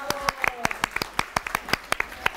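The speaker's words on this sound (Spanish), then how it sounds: "Estos aplausos no son grabados, están en vivo" Schoolchildren give live applause in a quick, uneven burst of sharp, close claps.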